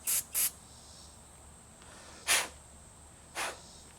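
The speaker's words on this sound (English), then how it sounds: "the only thing I did is took the carburetor cleaner, put on the back side of it right there, shot it" Aerosol carburetor cleaner sprayed into the back of a carburetor in four short, sharp hissing bursts: two quick ones close together, then two more spaced apart, with quiet between them.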